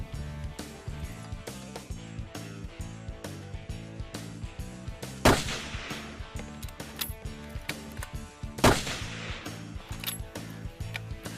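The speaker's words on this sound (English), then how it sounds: "So what I'm gonna do is just shoot a couple of shots here, maybe 25, 30-yard shot, just make sure everything's on" Two sharp test shots ring out from a .308 hunting rifle firing 150-grain bullets at about 25 to 30 yards, a few seconds apart, over steady rhythmic music.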